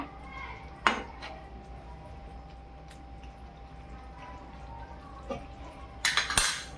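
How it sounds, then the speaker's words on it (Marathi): A spoon stirs mushroom masala in a pan, giving a few quiet metallic clinks, and a cluster of sharper clattering knocks near the end as a lid goes on, over a soft background hum. "परत एकदा आपण त्याला ढवलून आणि झाकण लावून ठेवून देऊ जरा 1 मिनिटासाठी"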